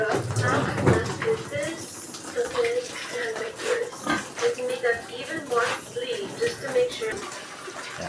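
A pig squealing and grunting before slaughter during New Year preparations, with repeated sharp cries in irregular bursts, accompanied by splashing water and people talking nearby.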